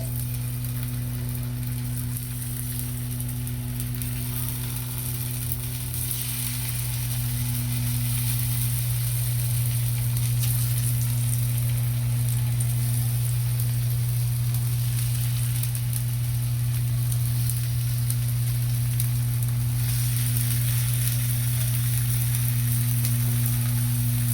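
Raw banana slices fry in a little oil on a flat pan, giving a steady, close sizzle that holds evenly the whole way through, over a constant low hum, with no voices.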